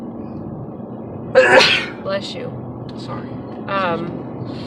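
A single loud, close sneeze from a woman, followed by a brief spoken apology and some quiet talk.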